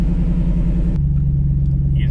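A 2013 Shelby GT500 engine idles steadily and loud, its deep low rumble dropping slightly in pitch and settling about a second in as the revs come down.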